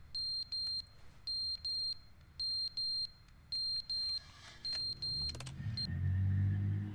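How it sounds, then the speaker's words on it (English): An electronic alarm, likely a smoke detector, gives repeated high-pitched double beeps in a steady rhythm, fairly faint, before a low engine-like rumble swells in at the end; no one speaks. "I don't like that beeping sound."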